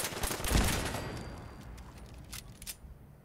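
Turret gunfire in Fallout 4, a burst of rapid shots up front that fades into scattered, fainter reports and sharp cracks toward the end.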